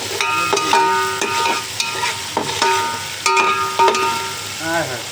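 Beef biryani is stirred in hot ghee, with a spoon scraping the pot in steady, repeated strokes over a constant close sizzle.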